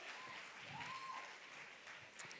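Congregation applauding in a church service, steady dense clapping throughout with voices faintly calling out over it.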